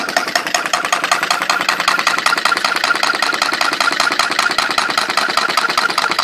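A small Stirling engine runs with a fast, steady mechanical ticking and a whirring hum. It stays fairly loud and even throughout, with no voices.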